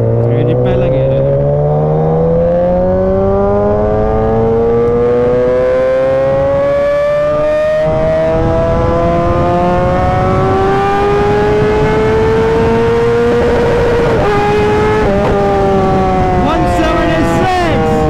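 A Kawasaki Ninja ZX10R sport motorcycle pulls hard in first gear during a top-speed run, its loud, close engine note climbing steadily in pitch for most of the run with a brief shift near the end.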